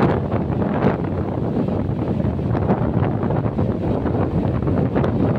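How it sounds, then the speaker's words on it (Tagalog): Strong wind buffets the microphone in a steady, loud roar, with a low rumble of high waves beneath it and no speech, on the coast at San Fabian, Pangasinan, Philippines. "Lakas ng hangin. Nararamdaman nyo lang guys yung hangin. Super hangin."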